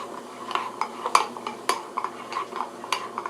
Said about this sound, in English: you just want to stir it until it does all dissolve